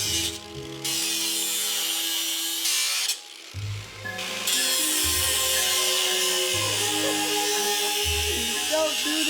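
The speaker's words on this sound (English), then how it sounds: "I think it's time to bust out an angle grinder." Loud, continuous high-pitched grinding whine of an angle grinder cutting metal on an abandoned supercar's exhaust, briefly dropping out twice before resuming steadily.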